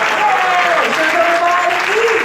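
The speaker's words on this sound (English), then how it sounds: "Hold your applause for the biggest supporter of ISKCON Brampton. His Divine Grace, A.C. Bhaktivedanta Swami" Audience applause at a Hindu devotional festival event, a dense steady wash of clapping from a crowd with a voice speaking faintly over it.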